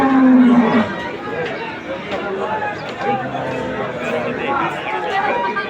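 A huge cow at a busy cattle market gives a long, loud low moo at the start, followed by the steady murmur of crowd chatter and background livestock noise.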